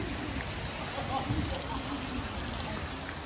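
Steady rain falls in Talisay during a bicycle ride, a dense continuous hiss of drops with no breaks, heard close around the rider.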